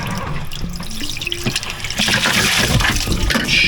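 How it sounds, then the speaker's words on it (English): Seawater gushes into a sailboat through an open transducer hole in the hull, a close, loud rushing and splashing that builds and grows fuller toward the end. "that puts a lot of water in"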